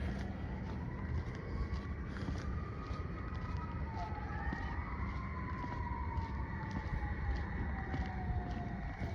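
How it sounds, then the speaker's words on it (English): Distant wailing emergency sirens on Halloween night rise and fall over a steady background hum, several overlapping tones sweeping slowly, faint and far away. "I already hear a lot of sirens."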